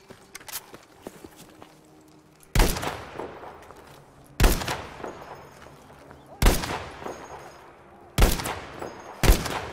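A semi-automatic rifle fires in the Battlefield V video game: five loud, sharp shots come about two seconds apart over a faint battlefield background.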